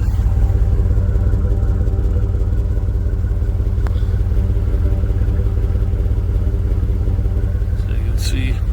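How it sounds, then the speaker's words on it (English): A Ford Super Duty truck with a 5.4 liter engine and new exhaust headers and Y pipe runs steadily, its exhaust giving a loud, continuous low rumble with light clatter throughout. "You can take a listen to what the exhaust sounds like."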